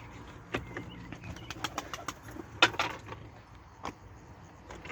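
Tumbler pigeons at a flying loft, with scattered soft wing flaps and flutters, faint and a little distant over light background noise.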